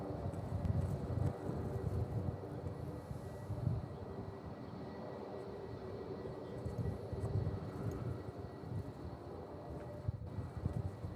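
A C-130 military transport aircraft approaches to land at Honolulu airport, its deep, steady propeller-engine drone rumbling continuously and fairly loud, mixed with some wind noise.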